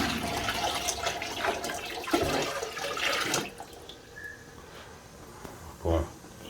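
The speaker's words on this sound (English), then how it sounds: "just adding a little more water" Water pours into a turtle tank with a filter and basking station, a loud splashing gush for about three seconds that then fades to a quieter trickle, with a short splash near the end.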